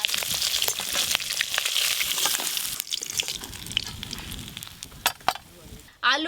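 Rohu fish head frying in oil, a crackling sizzle that is loud at first, thins out with scattered pops and sharp spatters, then ends in a short clattering noise.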